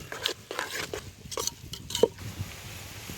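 A spoon scrapes and knocks against a pan while masala is stirred into a fresh green turmeric curry, with several irregular soft scrapes and light clinks, close and alone.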